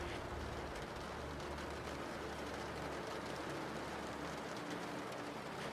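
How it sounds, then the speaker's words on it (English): Rain taps against the high windows of a castle entrance hall during a storm, a soft, continuous patter heard from indoors with faint low rumble beneath and no voices. "Rain still taps against the high windows"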